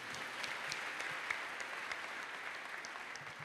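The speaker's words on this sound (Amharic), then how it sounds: "እስቲ አጨብጭቡ ለጌታ።" A church congregation claps for the Lord, producing steady, fairly faint applause from a crowd of many hands, sustained evenly throughout without speech.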